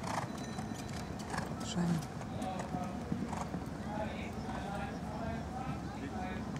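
Horse hooves at a show jumping event with the horse Blancpain of Club Hippique du Nord, Luxembourg, a steady clip-clop over a busy arena background, with a brief spoken word and occasional whinny-like sounds.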